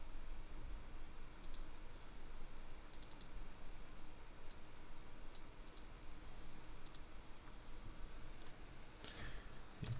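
Computer keyboard keys pressed for a shortcut in InDesign, a few faint, sparse clicks spread over a steady hiss, with a slightly louder pair of taps near the end.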